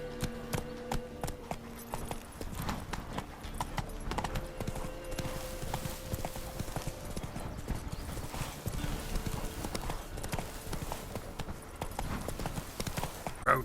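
A horse's hooves clip-clop at a steady trotting rhythm in The Witcher 3: Wild Hunt, continuous and fairly close, alongside faint game tones and occasional jangling tack.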